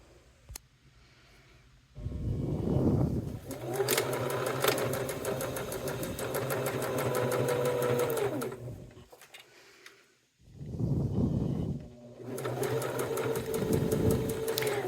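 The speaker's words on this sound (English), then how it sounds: "to go to the sewing machine. We're going to sew again with that scant 1/4 of an inch." Sewing machine running a scant quarter-inch seam through wallet fabric in two long, steady bursts of rapid stitching, with a short quiet pause between them.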